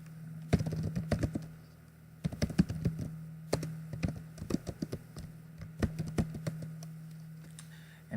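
Clacking on a computer keyboard while Java code is entered, with irregular bursts of close, crisp keystrokes and short pauses between words over a steady low hum.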